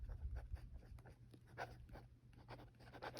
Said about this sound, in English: I'm going to write this down